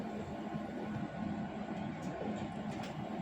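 Steady low rumble and rattle inside a moving Polish electric commuter train between Szczecin and Goleniów, a constant mechanical drone with faint clicks.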